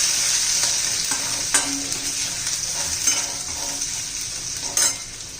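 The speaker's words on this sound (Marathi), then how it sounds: "छान अशी आपण परतून घेतलेली आहे मोठी आलं लसूण पेस्ट घालायची आहे" Ginger garlic paste sautéing in a pan with cooked capsicum, a steady close sizzle broken by a few stirring scrapes, with no talk.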